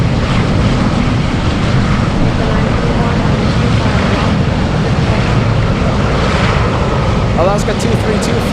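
A UPS cargo jet pushing back at Anchorage airport gives a loud, continuous low engine rumble mixed with gusty wind buffeting, steady throughout.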